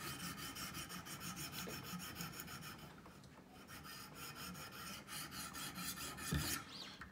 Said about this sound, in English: then I just do some scrubbing like this, an up and down motion. until I make sure that all that marker is completely gone